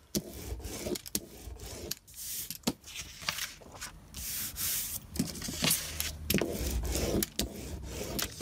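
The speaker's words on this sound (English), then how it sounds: "Again, I'll come in with the brayer." A rubber brayer rolls and rubs over collage paper pressed into a handmade junk journal, giving a steady close-up scraping and rolling texture with short pauses and bumps, no talking.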